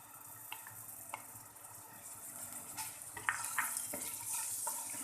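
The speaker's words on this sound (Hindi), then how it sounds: "थोड़ा फ्राई करेंगे" Ginger-garlic paste fries with cumin in a pan for homemade pizza sauce, a faint, steady sizzle broken by a few light clicks of stirring.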